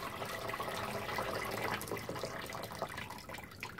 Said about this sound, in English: let me just tip the coolant,